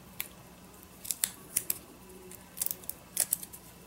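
Scissors cut through a paper envelope in a handful of short crisp snips, spaced irregularly and close up against a quiet background, with no talking.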